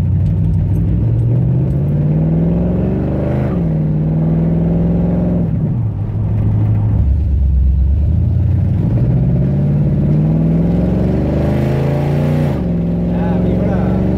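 A 1972 Chevrolet Chevelle with a 327ci V8 rumbles deep and loud, heard from inside at low speed with a window down. The revs rise and fall in repeated swells as it drives, and voices may be faintly present.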